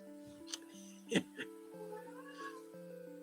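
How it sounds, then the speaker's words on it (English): A cat gives a short, faint meow amid a quiet background of steady tones, with a couple of small clicks around it. "I hear a cat."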